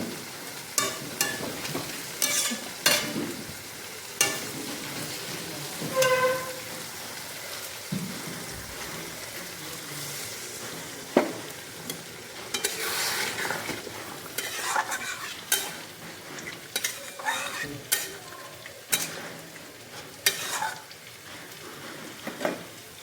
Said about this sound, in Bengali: আজকে দুটোর মধ্যেই বসিয়ে দিয়েছি। এটার মধ্যে মাটন আর এটার মধ্যে ইলিশ মাছ।